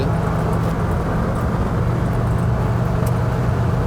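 1971 Chevy C10 pickup truck cruising at highway speed around 65–70 mph, heard as a loud steady low rumble of engine and road noise with no speech.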